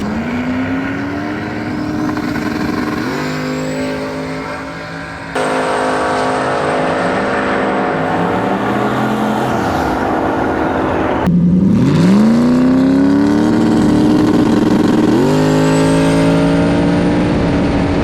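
A drag race car launching and accelerating down the strip, a loud close engine roar climbing in pitch through several gear changes, dropping and rising again, with no speech.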